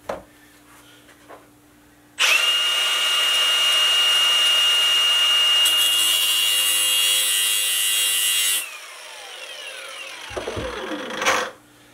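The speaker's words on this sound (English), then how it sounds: "I went, instead of grinding on the outside of the wheel, I moved it farther in so that it would actually grind a little bit slower" A piston ring for an Oldsmobile small block engine is ground on a grinding wheel, a loud, steady, high-pitched whine lasting about six seconds before dropping to a softer hum, then a few brief scrapes close by.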